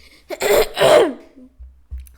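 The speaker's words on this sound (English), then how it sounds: "Cough number 1. Let's try to keep count now." One close, harsh cough in two quick bursts from a man, followed by a couple of soft low thumps.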